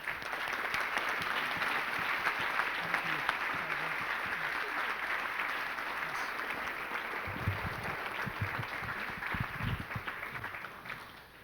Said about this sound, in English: give the line staff a round of applause